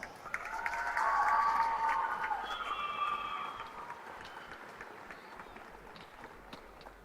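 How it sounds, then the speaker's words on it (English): Crowd at a high school basketball game applauding and cheering, swelling to a loud peak early then fading into diffuse gym noise, with a few whistle-like tones mixed in. "Let's give them another round of applause."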